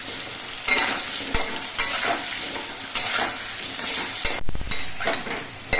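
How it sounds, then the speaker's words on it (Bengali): Potatoes frying in oil in a wok, a loud, steady sizzle and crackle close up, punctuated by periodic spatula scrapes and stirring knocks. "এবার এই তেলের মধ্যে আলুগুলো ভেজে নিচ্ছে"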